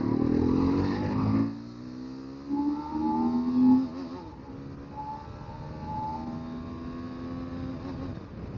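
A Hero Xpulse 210 motorcycle fitted with a 46-tooth rear sprocket accelerates through the gears. Engine pitch climbs repeatedly with shifts and a loud burst early on, then settles into a moderate, steady drone.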